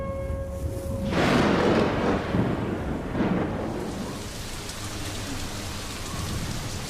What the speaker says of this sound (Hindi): सूखी घास पर पानी की बूंदें पड़नी शुरू हो गई हैं